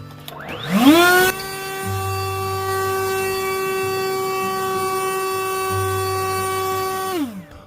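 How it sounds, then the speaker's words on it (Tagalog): A snow blower motor spins up with a rising whine, holds a steady loud tonal drone for several seconds, then winds down nearby. "ito yung sinasabi kong blower natin na gagamitin mga kainags"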